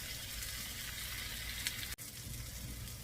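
Tomatoes and beans sizzling in a pan, a steady close broadband frying hiss that runs unbroken apart from one brief dropout near the middle.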